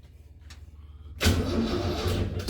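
A Jeep CJ5 engine is started with a new ignition switch: a short cranking rumble, then the engine catches abruptly and runs loud and steady close by, with no talk.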